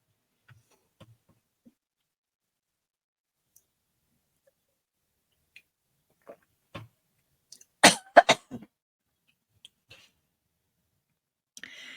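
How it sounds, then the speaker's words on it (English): A person with allergies coughs a few times in a quiet room, a tight cluster of sharp, close coughs surrounded by faint clicks and long silence. "My allergies are killing me today, and I keep coughing."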